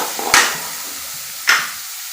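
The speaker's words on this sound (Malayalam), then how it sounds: "ക്യാരറ്റ് ഇട്ട് കൊടുത്തിട്ട് ഇളക്കാം" Grated carrot for a carrot egg thoran stirs and fries in a hot pan, with two sharp scraping stirs over a soft continuous sizzle, close and clear, no voices.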